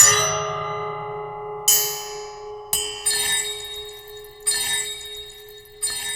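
Struck metallic tones from a waterphone sample, a bowed-bell instrument, ringing like an alarm clock: five or six bright clanging hits, each ringing out and decaying, close and fairly loud with no voices.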